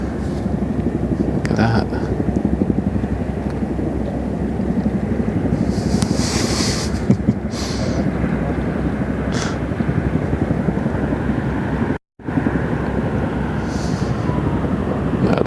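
Three Dutch army Chinook helicopters pass by over the Westerschelde waterway in the Netherlands, giving a steady low rumble of rotors throughout, with people talking over it.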